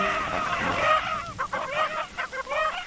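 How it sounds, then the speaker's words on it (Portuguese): Roosters crowing and squawking during a cockfight, a run of loud, harsh honking calls, a long cry first and then several short strained squawks in quick succession, close by. "os galos estão gritando muito de dor"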